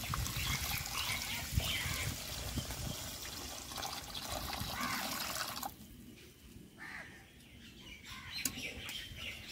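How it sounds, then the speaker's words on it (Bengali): Water poured into a pan of spiced fish curry after the spice paste has been fried in oil, a continuous rushing pour that swells and then drops to a softer bubbling sizzle partway through. "জল দিয়ে দিচ্ছি।"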